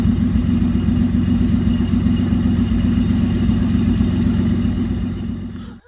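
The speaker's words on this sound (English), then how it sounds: "we got her fired up. We got her idling smooth, sounding good." A 1946 Plymouth engine, brought back after sitting for six years, idles smoothly with a steady low rumble that stays loud and close throughout, then cuts off abruptly at the very end.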